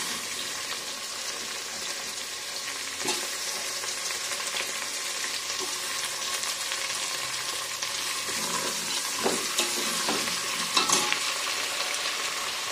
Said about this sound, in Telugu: ఇప్పుడు దీంట్లో కరివేపాకు కూడా వేస్తున్నాను, అలాగే వంకాయ ముక్కలు కూడా వేసేస్తున్నాను